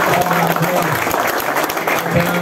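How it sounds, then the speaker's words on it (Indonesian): Applause for Pak Nasekan from Kendal at a business meeting, a loud, dense burst of clapping from a gathered audience, close and continuous for a couple of seconds. "beri aplaus buat Pak Nasekan"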